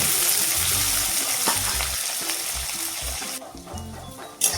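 Squash frying in oil in a pan, a steady loud sizzle with low rhythmic knocks of stirring, then the hiss drops abruptly to quieter knocking and a final sharp clatter, no voices.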